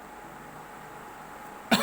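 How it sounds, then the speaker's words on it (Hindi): A teacher giving a lecture on electrostatics gives a single short, sharp cough at the very end after near silence, close to the microphone. "आप लोग को लगा होगा सर खांस दिए हैं"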